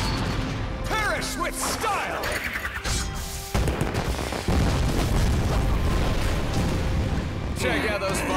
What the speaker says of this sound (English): Check out those fireworks!